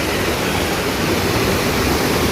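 Constant rushing water fills the scene, a dense, even roar of a small monsoon-fed river flowing near farm fields, heard up close with no other sounds.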